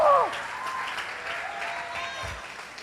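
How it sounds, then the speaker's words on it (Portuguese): A church congregation at a Baptist church in Igarapé, Minas Gerais, applauds with a steady wash of many hands clapping for about three seconds, with a voice briefly heard at the start. "Quem pode aplaudir ao Senhor?"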